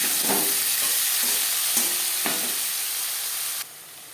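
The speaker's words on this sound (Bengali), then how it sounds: "মাছ ভেজে নেওয়া কড়াইতে আবারও তেল দিয়েছি। দিয়ে দেবো পেঁয়াজ টমেটো।" Chopped onions and tomatoes sizzling in hot oil in a wok just used for frying fish, a loud, steady hiss with a few soft stirring knocks before the sizzle drops suddenly near the end.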